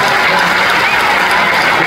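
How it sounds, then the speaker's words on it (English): Audience applause at a school band concert for sixth grade bands, a loud, steady wash of clapping filling the room without a break. "Give another round of applause."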